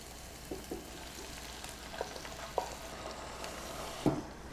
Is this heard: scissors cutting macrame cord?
no